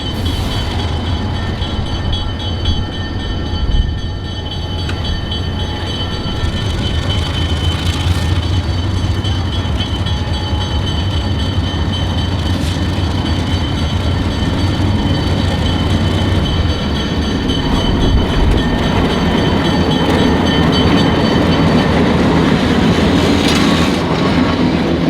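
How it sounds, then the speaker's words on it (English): Santa Fe number 92, an FP45 diesel locomotive, runs at the Illinois Railway Museum's Diesel Days. A loud, steady engine drone carries on with clickety-clack wheel noise and faint squeals, continuous and close throughout. "This is another one of my favorite units in the IRM collection, Santa Fe number 92. It's an FP45."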